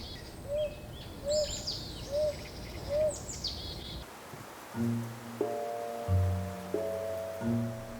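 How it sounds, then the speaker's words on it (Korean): An owl hoots at night on the grounds of Changdeokgung Palace, giving four short, evenly spaced hoots over a steady bed of chirring insects. Sustained musical tones then take over for the second half. "글 공부하던 왕이 들었을 부엉이 소리."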